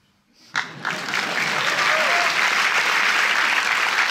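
An audience at a Paris film premiere at UGC Les Halles bursts into applause after a brief quiet start, swelling within a second into loud, sustained clapping from a large crowd.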